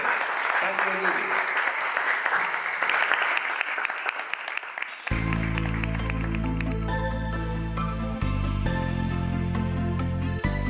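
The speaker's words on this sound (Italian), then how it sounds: "facciamo un grosso applauso per Michele" A live-streamed crowd claps loudly and steadily for about five seconds, then music cuts in and carries on to the end.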